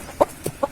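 A rooster clucks three times in short, separate bursts, close by and fairly clear, with quiet gaps between the calls.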